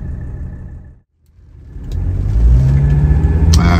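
A Mercedes-Benz W123 turbo diesel car pulls away and accelerates, its engine note rising steadily and loudly after a brief quiet gap, heard from inside the vehicle.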